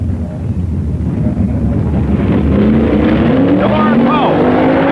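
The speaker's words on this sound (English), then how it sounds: "Only 4 factory experimentals are left as George DeLorean races Len Richter." Factory experimental drag race cars at a 1965 drag strip roar at full throttle, a loud continuous engine drone with rising whine as they accelerate down the strip, with an announcer talking over it.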